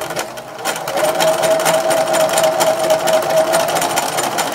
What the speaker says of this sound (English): as you're stitching you're going to be stretching the material